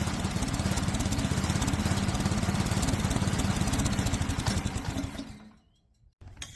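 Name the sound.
Ariens snowblower engine running as fuel is cut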